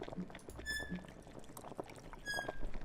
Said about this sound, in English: It was bubbling.